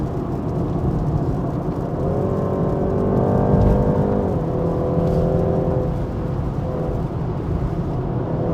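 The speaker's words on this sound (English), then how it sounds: "You can accelerate, but it has to be very stable and steady acceleration." A 2023 BMW 330i LCI accelerating steadily up a wet, slippery Genting mountain road, its engine droning loud and close with a rising pitch that eases off, then a smooth steady hum with tire noise and no talk.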